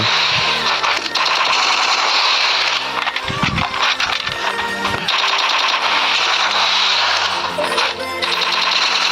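Gunfire rattles through a one-on-one Free Fire video game duel: loud, close bursts of rapid automatic shots come in repeated runs over a dense game soundtrack, with a brief lull in the middle.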